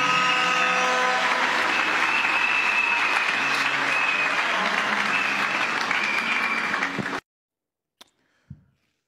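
A church congregation applauds to praise the Lord, a dense, loud, steady wash of clapping with faint sustained tones beneath. It stops abruptly after about seven seconds, leaving near silence broken by a couple of small knocks.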